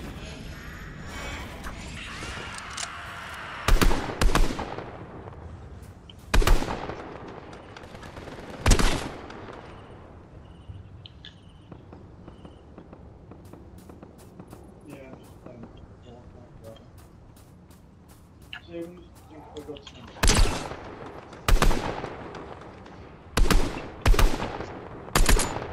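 Stormtrooper blasters fire in a Fortnite match in a few sharp, loud bursts spread apart, with a tight cluster of rapid shots near the end. Quieter game sounds and voices fill the gaps between them.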